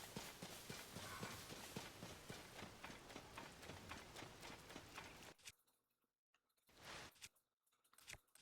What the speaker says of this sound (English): Oh, horses. Actually, those are deer.